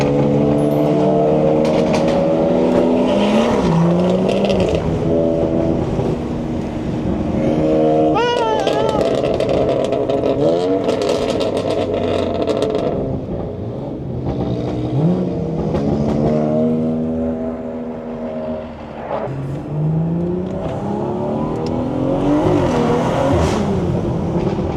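A BMW 340i with a B58 engine and loud exhaust revs and pulls hard during a drive, its tone sweeping up and down through repeated accelerations, with people talking excitedly inside the car.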